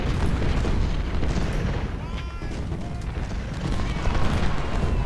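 Booming artillery fire from cannon batteries in the Civil War strategy game Ultimate General: Civil War, a continuous low rumble of distant shots and blasts layered over each other, with narration murmuring faintly underneath.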